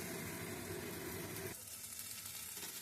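Vegetables for shukto sizzling in hot oil in a pan, a steady broadband frying hiss that drops back slightly partway through, fairly quiet and without talk.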